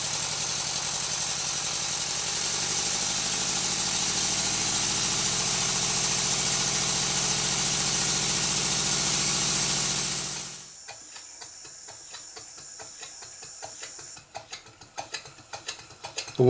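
Stuart Twin Victoria model steam engine running on compressed air at high speed, a loud, dense mechanical whir and hiss that cuts off abruptly, leaving faint ticking and clicks as it winds down.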